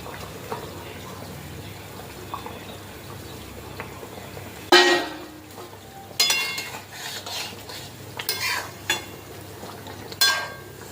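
Eggplant pieces drop into a pan of tilapia curry, setting off a sudden sizzle and then bursts of frying, stirring and utensil scrapes against the pot, with no talk.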